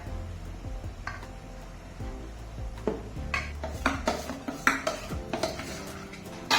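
Dhokla batter is poured into an oiled metal steaming vessel with clinks and knocks of utensils against the pot, followed by louder scraping and tapping near the end.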